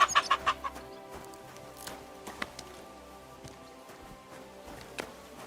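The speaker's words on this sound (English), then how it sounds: "Chickens? Hey, it's a capon." A capon clucks in a video game, several quick, sharp clucks close up at the start followed by sparser single clucks and soft footsteps over faint ambient background.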